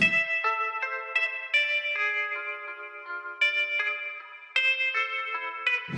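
A synthesized melodic loop of bright, bell-like tones stepping through a repeating phrase, with soft echo and no drums, played clearly and alone.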